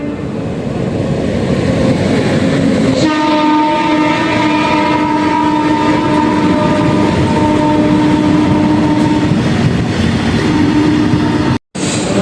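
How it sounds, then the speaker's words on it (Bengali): A train rumbles loudly into a station, sounding a long, sustained horn over the clatter of the cars, then cuts off abruptly near the end. "খবর হয়ে গেছে ট্রেনটা ঢুকছে তোমরা দেখতেই পাচ্ছ তো"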